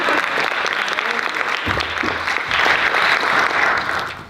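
Theatre audience clapping steadily for a performance, a dense, continuous patter of many hands that swells louder in the second half, with brief voices underneath.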